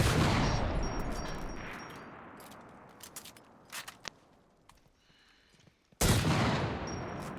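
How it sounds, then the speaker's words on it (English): Heavy gunfire in a tank-combat video game practice mode with anti-tank rifles: a long loud roaring blast that fades, scattered clicks and small impacts, then another sudden powerful shot near the end. "The anti-tank rifle"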